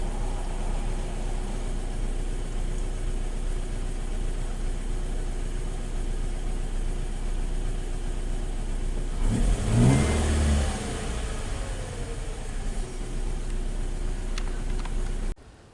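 A car with a check-engine fault idles steadily at close range, then revs up once in a brief swell before settling back to a low idle, with no talking.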